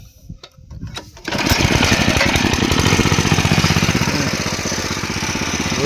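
A rice harvester's engine starts up loud and close after a few clanks, then runs steadily with a fast rhythmic chugging and mechanical rattle for the rest of the clip.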